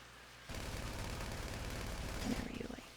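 Continuous burst of gunfire from a character's weapon in GTA V, starting abruptly after a quiet moment and holding steady and loud for over two seconds before trailing off.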